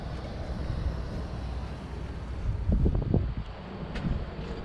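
Gusty beach wind at Gamble Rogers State Park, Florida, buffets the microphone with low rumbling bursts, swelling strongly in the middle before easing, loud and close.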